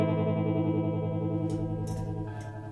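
An electric guitar played through a Marshall Vibratrem pedal set to a triangle-wave tremolo, its sustained chord smoothly pulsing in volume, with a few string slides and a chord change near the end, steady and alone.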